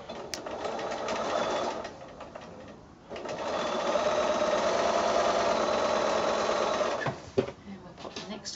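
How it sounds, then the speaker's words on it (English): Sewing machine stitching quilt squares into a pinwheel block, a steady close whirring run with a short pause and a second longer burst, ending in light handling clicks. "So I'll quickly run these through the machine and put this block together."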